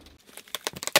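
Microphone packaging crinkles and rustles up close as it is unboxed, a quick run of sharp crackling bursts that grows louder toward the end, with no voices.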